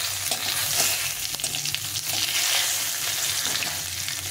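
Bay leaves, dried chillies and a generous amount of cumin temper in hilsa fish oil, giving a loud, even hiss of sizzling with small crackles, close up and unbroken.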